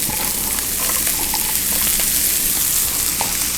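Onions sauté in oil in a pan just used for cooking steak, a loud, close, steady sizzle with a few soft stirring scrapes, no voices.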